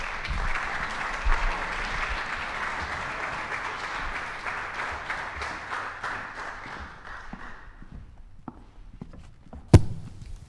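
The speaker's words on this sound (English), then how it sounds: "Give them a round of applause." Applause from an audience at an annual meeting, steady and moderately loud for about eight seconds, then thinning out and fading, with a sharp knock near the end.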